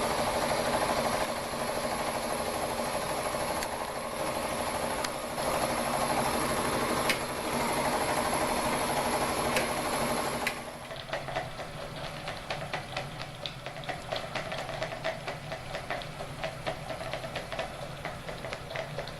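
Jensen Model 50 toy steam engine running at about 4 to 5 psi on a single electric heater element: a steady mechanical chuffing and whirring close by, which becomes noticeably lighter and quieter partway through.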